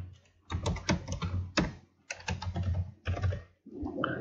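Someone types a phone number on a computer keyboard, producing close bursts of crisp key clicks in quick irregular runs separated by short pauses.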